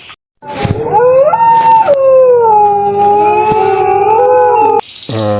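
A dog howls in a long, sustained, wavering cry lasting several seconds, loud and close, then breaks off into shorter yelps.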